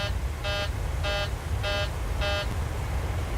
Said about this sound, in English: here we go, another alarm. Let's see what we've got. It's probably that cabin altitude again.